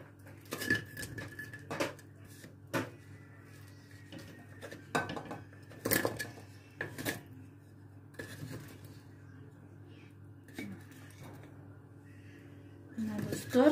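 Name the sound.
taking samsa from the kazan onto a plate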